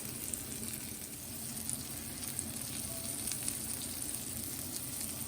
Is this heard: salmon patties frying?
yes